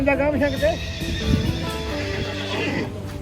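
A horse whinnies loudly nearby at a crowded horse fair, one long shaking neigh rising and falling over steady background crowd noise and talk.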